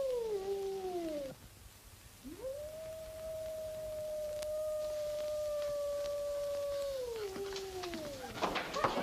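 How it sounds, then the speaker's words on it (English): A wolf howls in a 1943 comedy western, one long sustained wavering cry that rises, holds steady and falls away, with a shorter howl just before it and faint background noise. "Haven't you girls ever heard a wolf before?"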